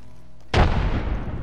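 A single heavy grenade blast in a sci-fi shooter scrim match: a sudden loud boom with a long, rumbling, crackling decay, coming after a quiet low hum.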